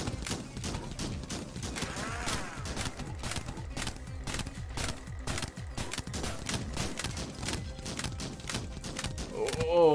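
Rapid bullets fire in the video game Billy's Nightmare, a dense, continuous run of sharp evenly spaced shots with in-game effects, and a player talks over them.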